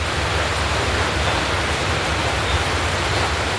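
Heavy rain pours down steadily in a rural province under a dark sky, a dense, even roar of hiss that never lets up, with no voices.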